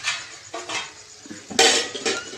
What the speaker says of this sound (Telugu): కిలో చికెన్ పొయ్యిలో పడుతుంది మళ్ళీ మూత పెడదాం